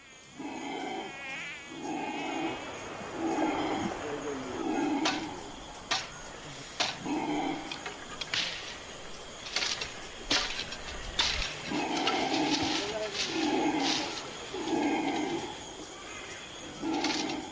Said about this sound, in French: Sous les cris de protestation des singes hurleurs, nous installons 4 bâches imperméables.